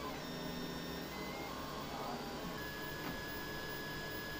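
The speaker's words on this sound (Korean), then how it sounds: "여러 대의 3D 프린터가 쉴 새 없이 움직이고 있는데요" Several 3D printers run nonstop in a 3D printing materials research lab, making a steady mechanical whir and hum with faint tonal whines and no speech.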